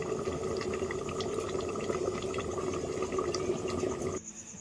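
Water poured into a pot of potatoes cooking for aloo dum, a steady running and bubbling wash with a faint tone, which cuts off abruptly near the end as the pot is covered.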